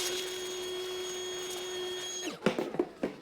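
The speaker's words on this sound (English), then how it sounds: "we'll just vacuum this really good first so we don't get any dirt or grit inside" A vacuum cleaner runs with a steady high whine while cleaning dust off the upper intake of a 2003-2006 Acura MDX engine, then cuts out into a few close knocks and handling clatter.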